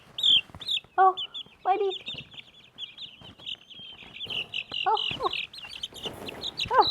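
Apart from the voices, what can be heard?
chickens clucking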